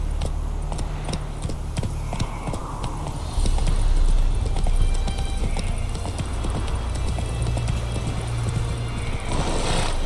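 Roach the horse trots in the Witcher 3 video game, with a quick, even clip-clop of hooves carrying on steadily over a low background rumble.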